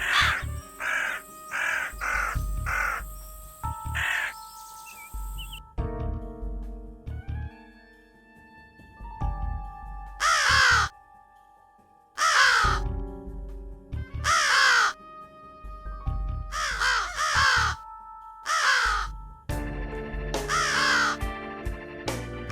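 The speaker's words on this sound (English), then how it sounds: "These crows never stop cawing." Crows in the video game Diabolik: The Original Sin caw in repeated loud bursts, several harsh calls spaced a few seconds apart over music-like tonal ambience, with no talking.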